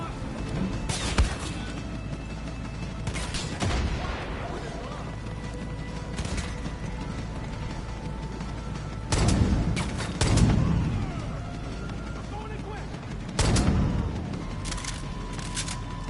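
Gunfire in the Far Cry 5 video game: bursts of shots and booming blasts arrive in clusters, loud sharp cracks separated by quieter stretches of mechanical rumble.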